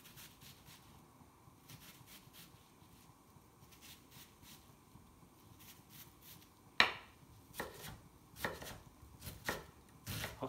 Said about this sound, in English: And now we're gonna chop a little onion.